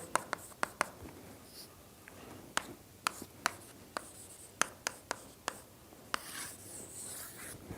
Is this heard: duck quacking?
no